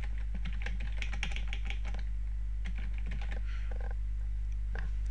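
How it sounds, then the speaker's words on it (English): Quick, steady keystrokes on a computer keyboard enter a username, close and clear over a constant low electrical hum, no talk. "I'm going to type in the username"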